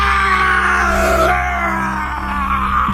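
A woman's scream, one long sustained high-pitched cry that wavers and strains over about three seconds, loud and close against a low background hum.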